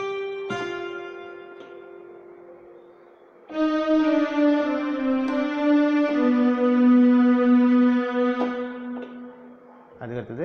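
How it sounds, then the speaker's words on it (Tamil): A keyboard bell tone rings out in a sustained, bright chime, followed by a fuller held chord that shifts a few times, then a brief final burst; close and fairly loud with no talking over it. "இப்போ வந்து அந்த பெல் அடிக்கிற சவுண்ட் கேட்கும்,"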